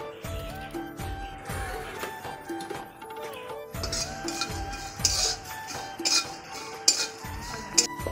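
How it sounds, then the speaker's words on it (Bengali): Coriander, cumin and torn bay leaf pieces dry-roasting in a dry pan give repeated scraping and light metallic clinks from stirring, with intermittent rattling bursts, close and moderately loud. "একটা তেজপাতাও ভেজে নেব টুকরো টুকরো করে।"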